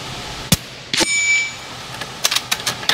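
An FX Atomic .30 caliber air rifle fires several sharp, close shots, each with a bright metallic ring. One report at the start is followed by a quick cluster of cracks toward the end, with no talking.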